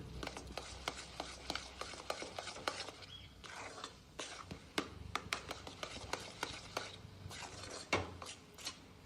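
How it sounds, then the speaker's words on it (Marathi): A spoon stirs and scrapes a thick coconut ladoo mixture in a pan, making irregular soft scrapes and sharp clinks against the metal, close and fairly quiet. "पुन्हा हे मिश्रण आपल्याला 7 मिनिटासाठी छान मिक्स करायचे"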